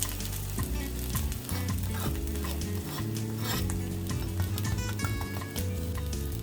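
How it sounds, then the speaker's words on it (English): Minapa rotti cooking over a very low flame in a covered pan, a steady crisp sizzle and fry crackle throughout, close and even, with no talking. "You can hear the crispiness of the roti."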